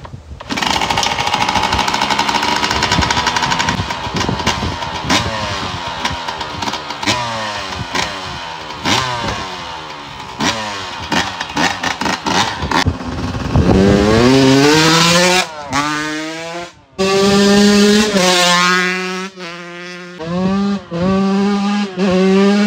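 A 2000 Yamaha YZ125 two-stroke dirt bike engine runs loud and close, rattling at idle before being revved hard in rising, wailing bursts that climb and fall repeatedly.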